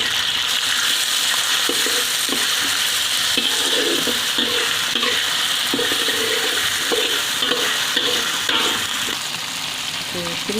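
Two spoonfuls of ground garlic and ginger frying in a pan for tempeh and potato varuval, a loud continuous sizzle with intermittent stirring and scraping, no talking.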